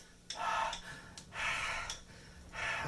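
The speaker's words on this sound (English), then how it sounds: "always hearing that sound behind you, the heavy footsteps, and that breathing" Heavy, ragged breaths in a horror video game rise and fall close up, three or four drawn-out gasping inhales and exhales with short pauses between them.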